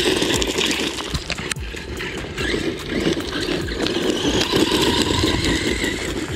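WLtoys 104009 RC monster truck driving over stones, with a whining electric motor that surges and eases alongside scattered crunching and rattling from the tires on rocks, close and fairly loud.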